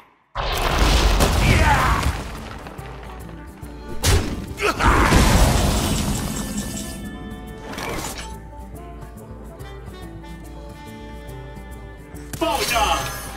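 Colourful explosions from the Hearthstone card game, in a Tavern Brawl with a mech taunt deck: heavy booming, shattering bursts erupt at the start and recur several times over a busy mix of game sounds and a voice.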